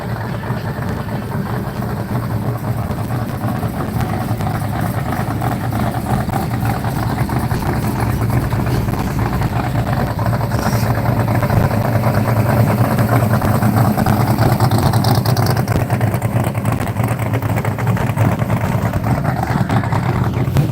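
Classic cars at a car show rolling past, a steady low engine rumble and idle throughout with no talk.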